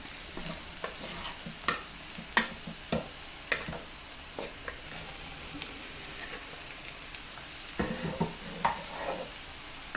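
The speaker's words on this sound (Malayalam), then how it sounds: "ഇനി നല്ലതുപോലെ ഇളക്കി മിക്സ് ചെയ്യാം" A spoon stirs boiled Chinese potato (koorka) in a pan with softened onions for a Kerala stir-fry, making scattered scrapes and taps over a soft, continuous sizzle, close and without speech.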